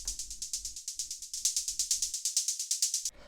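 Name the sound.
saturated synth hi-hat from filtered white noise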